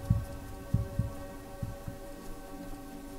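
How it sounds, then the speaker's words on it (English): Video game heartbeat from a Roblox Flee the Facility round, a deep low thumping in uneven double beats over a steady hum, strongest at first and then fading softer. "I still hear the heartbeat. Oh my gosh, it's getting stronger."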